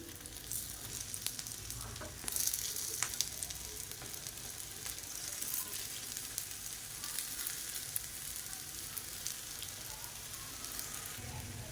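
Moong dal sweet appam batter sizzles in oil in a paniyaram pan, a steady soft frying hiss with faint crackles and occasional brief clinks, quiet and close without speech.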